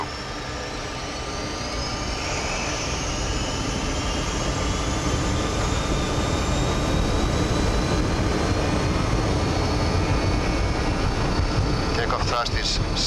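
Jet engines of a BAe 146-300 airliner roar steadily at takeoff thrust from inside the cockpit, a loud sustained broadband rumble with rising whine tones, no talk heard.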